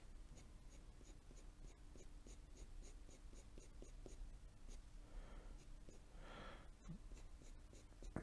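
A pencil scratches across paper while drawing straight hair and plaits in a realistic portrait sketch, a quiet, close run of short repeated strokes with a brief rougher scribbling burst near the end.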